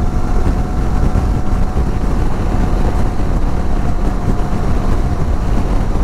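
A Kawasaki Versys 650 motorcycle being ridden on the road, with a steady engine drone buried under loud, continuous wind rush at the helmet or microphone. No one speaks.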